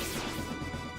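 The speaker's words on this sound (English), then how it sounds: "Ooh, a stun bomb." A stun bomb goes off in Shining Force 3, giving a single loud, dense crashing burst that holds steady through the short span.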